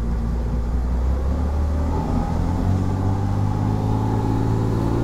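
A refitted 1968 Levi Triana powerboat with a single diesel engine runs at full throttle, a loud, close, steady engine roar with a low rumble that builds slightly, and no voices.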